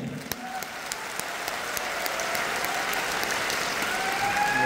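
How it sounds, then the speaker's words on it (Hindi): Steady applause fills a stadium anniversary gathering, a dense wash of many hands clapping at moderate distance, swelling slightly toward the end. "और एक बार ताली अपने लिए बजा लीजिए"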